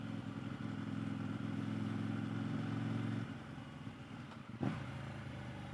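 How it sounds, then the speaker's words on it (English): A 2022 KTM 890 Duke motorcycle engine drones loudly under load, then drops off sharply as it downshifts into engine braking, leaving a lower, steadier rumble with a brief bump. "Nice crisp downshift there. Very good engine compression braking there."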